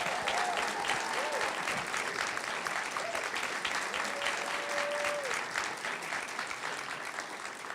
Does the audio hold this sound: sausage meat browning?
no